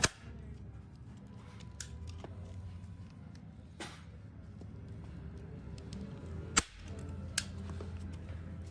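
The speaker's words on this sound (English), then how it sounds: "the staple gun literally stopped working" A staple gun fires a few sharp, isolated snaps while fastening plastic sheeting to the underside of a homemade hovercraft, each crisp click standing apart over a low steady room hum, with one louder clack near the end.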